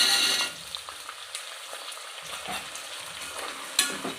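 Soaked green peas added to a hot pan for veg biryani and stirred, with a brief loud sizzle at the start, then quiet frying and intermittent spoon scrapes, one sharper clink near the end.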